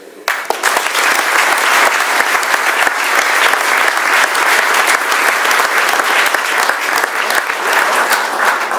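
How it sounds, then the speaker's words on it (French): Sustained, loud audience applause fills a public political meeting in France, steady dense clapping from a large crowd that starts abruptly and continues without pause to the end. "Je voudrais bien que vous l'applaudissiez."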